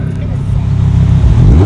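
A deep, rumbling Aston Martin DBS Superleggera engine grows steadily louder over a couple of seconds, a low throaty roar close by.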